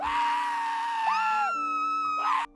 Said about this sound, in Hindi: वह उस लड़के को देखकर चीखने लगता है और लड़का भी उसे देखकर चीखने लगता है।